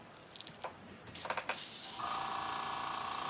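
A spray can of primer bursts into a continuous loud hiss after a few sputtering clicks and short spurts, the clogged nozzle finally clearing into a steady spray.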